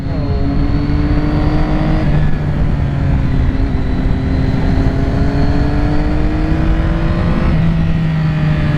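Two sport motorcycles, a 2006 Triumph Daytona 675 and a 2007 Yamaha YZF R6, ride past loud and close, their engines revving and shifting through gears in rising whines with brief drops between pulls.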